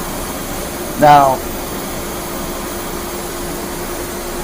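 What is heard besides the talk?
laser cutter exhaust blower and air compressor switched on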